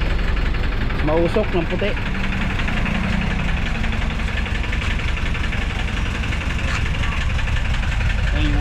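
A Hyundai H100 engine runs rough after being driven through floodwater, giving a loud, continuous low rumble with an uneven idle while someone speaks over it.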